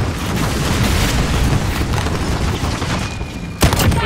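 Rocket blasts and dense gunfire in the Modern Warfare video game, a continuous loud barrage of booming explosions and rattling shots with a sharp bang near the end.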